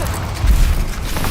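Confringo blast spell in the Hogwarts Legacy video game: a low, rumbling explosive boom that swells briefly and fades into a dense, noisy roar, with no talking.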